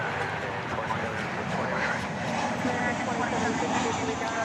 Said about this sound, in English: American Flight 1207, you just saw the tail of it there. It's going to Tucson. It's an Airbus A321.